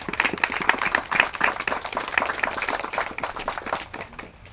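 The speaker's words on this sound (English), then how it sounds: "please give her a round of applause as well" Outdoor audience clapping for an absent logo designer at a Southfield walk against domestic violence, a steady ragged patter of many hands that thins and fades toward the end.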